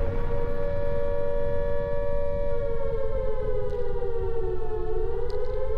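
A loud, steady wailing siren holds its tone, then slowly dips and rises again, with no voices.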